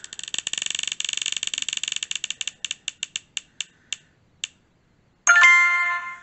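A spinning selection wheel for picking an eyeshadow clicks rapidly, its ticks spacing out as it slows to a stop, followed by a bright ringing chime; no talking.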